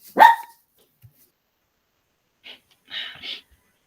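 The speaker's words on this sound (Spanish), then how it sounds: "mi perra le da mucho miedo, entonces se pone a ladrar" A dog frightened by fireworks barks once sharply and close, then after a pause gives a few softer, breathy wheezing yelps, with brief silences in between.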